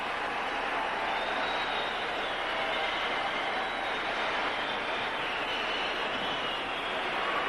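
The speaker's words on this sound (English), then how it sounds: "you'll be hearing applause from other events that are going on at the same time" Distant, sustained applause from a large arena crowd at gymnastics championships, a steady broadband roar of clapping holding evenly for several seconds.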